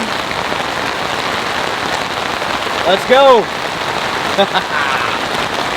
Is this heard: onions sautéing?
no